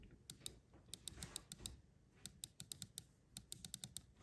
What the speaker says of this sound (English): you can actually push gently on the controller to see if it's seated right. And you should be able to hear it click.